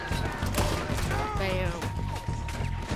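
Gunshots ring out in Red Dead Redemption 2 gameplay, several sharp cracks spread through a few seconds over game sound, with a voice talking over them.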